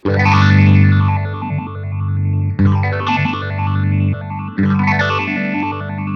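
Electric guitar run through a modeled effects pedal with a heavy swirling chorus and light drive, three long strummed chords each ringing and sweeping for about two seconds, loud and close with no talk.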